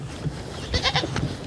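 Goats on a farm bleat in a short, close cluster of wavering cries over a low outdoor background.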